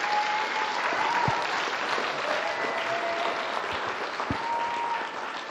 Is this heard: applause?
yes